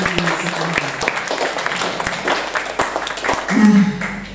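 Audience applause for a speaker at an indoor adolescent reproductive health education event, a dense continuous patter of clapping from a gathered crowd, fairly close and loud, with voices talking over it.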